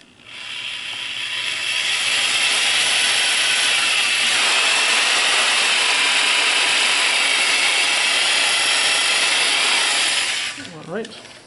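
A power drill bores a hole into a cracked cast iron part, whining and grinding at a steady loud pitch for about ten seconds before spinning down and stopping with a short clatter.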